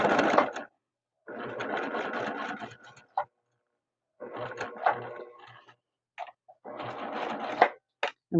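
Sewing machine running close by, stitching fabric braids at a small stitch length in several steady bursts of rapid whirring, separated by short pauses.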